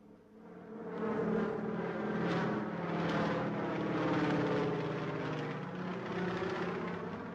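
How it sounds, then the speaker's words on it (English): A training aircraft takes off and flies low during a pilot demonstration at an airport in Bremen, its engine making a steady, loud, droning roar that builds quickly and holds. "they were able to demonstrate to the eminent African visitors takeoff and perfect low-flying exercises"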